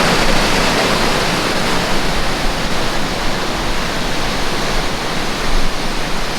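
A muddy creek swollen after overnight rain rushes steadily, a dense, unbroken roar of water filling the whole stretch at a constant, fairly loud level with no voices.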